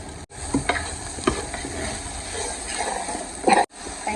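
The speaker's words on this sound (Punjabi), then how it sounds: "ਨਾਲੇ ਹਲਦੀ ਕਲਰ ਛੱਡ ਦੂਗੀ ਤੇ ਨਾਲੇ ਭੁੱਜ ਜੂਗੀ" Raw turmeric roasting in a pan for a turmeric and cauliflower dish gives a loud, steady sizzle with scraping stirs throughout, ending in a brief break.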